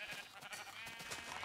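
Sheep bleating in Minecraft, several short in-game bleats repeating over a steady background, fairly faint throughout.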